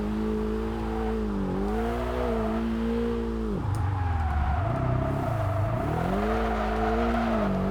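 Station wagon engine in the Kaido Racer 2 racing game, a loud steady drone revving up and down through gear changes and dropping low in the middle before climbing again, with no voices.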